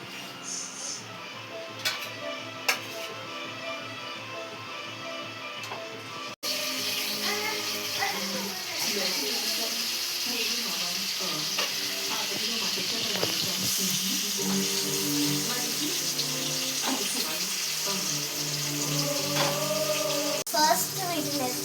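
Eggs fry in hot oil with turmeric, giving a loud, continuous sizzle that crackles and spits. After a brief knock it carries on steadily, with voices faint in the background.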